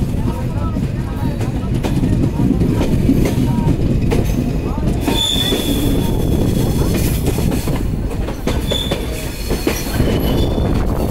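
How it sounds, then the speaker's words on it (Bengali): A train rumbles and clatters steadily on the rails, with occasional wheel squeals, as it rolls into Abdulpur Junction station in Bangladesh. "আমাদের ট্রেন প্রবেশ করছে আব্দুলপুর জংশন রেলওয়ে স্টেশনে"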